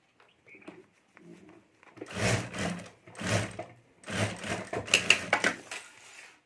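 A sewing machine runs in short bursts and then longer runs, stitching the joint of a homemade clutch bag near its zipper, close and moderately loud with no talk.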